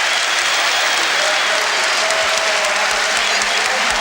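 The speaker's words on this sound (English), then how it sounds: "he gets applause from his manager on the bench and from the Tottenham fans as well" Tottenham football fans applaud after a goal, a steady, dense wash of clapping from a large stadium crowd that holds evenly at full volume throughout with no speech above it.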